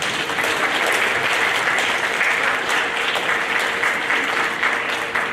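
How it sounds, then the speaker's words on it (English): An audience at a sixth-grade school awards program claps steadily for honor-roll students, a thick, continuous wash of applause lasting several seconds without speech. "Round of applause for those students."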